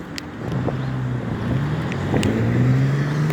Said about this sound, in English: Look at the car revving and speeding around me now